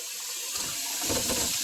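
Lemons rinsed under a running kitchen tap, a steady close splash of water that grows slightly fuller partway through, with no talking.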